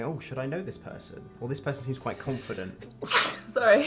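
A single loud, abrupt sneeze bursts out near the end, close to the listener, following a stretch of a person talking.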